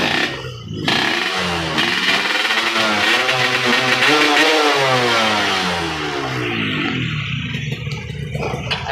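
A Suzuki Satria 120 two-stroke motorcycle with standard porting revs hard and close, its pitch climbing and sweeping down across repeated throttle blips with a raspy, buzzing tone, no talk over it.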